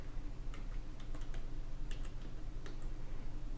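A username being typed on a computer keyboard in a quick run of light, sparse key clicks, close but soft beneath a steady background hum, with no speech.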